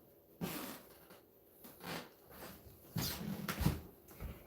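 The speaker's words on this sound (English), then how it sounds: "That's a fox." A fox calls just outside a door at night, giving several short, breathy barks and yelps spaced out over a few seconds, moderately close against quiet background hiss.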